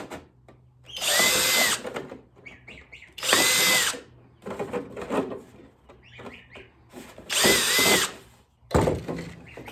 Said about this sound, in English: I've got a real small drill bit